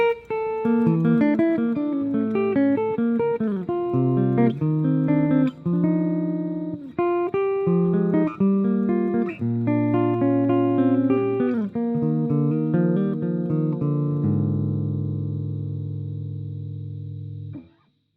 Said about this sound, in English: what I'm doing here is I'm working with arpeggios instead of chords